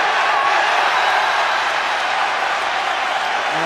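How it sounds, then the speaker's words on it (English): Basketball crowd at an NCAA men's game between Wagner and Missouri, a steady dense roar of cheering and calls filling the arena throughout, loud and continuous without breaks. "And the crowd calling for Adam Wolf and getting Adam Wolf"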